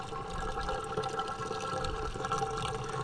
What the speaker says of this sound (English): Water's going in. You can hear it going into all my buckets.